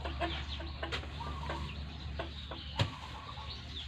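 Chickens cluck and call close by on a farm in the morning, with scattered overlapping clucks and one sharper squawk over a low steady background hum.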